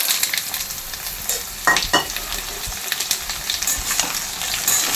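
Potatoes go into a pan of lightly browned onions and start frying with a steady sizzle, with stirring scrapes and a few sharper clatters near the middle.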